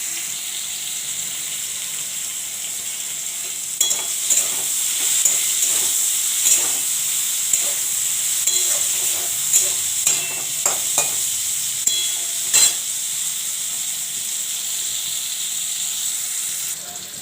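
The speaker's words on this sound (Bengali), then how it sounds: "মেথি শাক ভাজা হবে" Methi (fenugreek) greens fry in a pan with a steady bright sizzle, broken by a series of sharp scraping stirs and clinks of a spatula, close and loud, with no voices.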